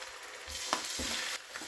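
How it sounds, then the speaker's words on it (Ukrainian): A steady, fairly quiet sizzle of chicken drumsticks and fillet frying in a pan, with a few soft clinks and stirring sounds, no voices. "Гомілки і філе трохи обсмажуємо на пательні"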